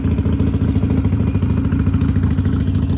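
A Harley motorcycle engine runs close by with a loud, steady, low throbbing rumble and a rapid pulsing beat that holds evenly throughout, without talk.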